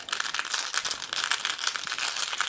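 Steady close rustling and crinkling as Arkham Horror chaos tokens are shuffled inside a bag, continuous scratchy friction with faint clicks throughout, no speech.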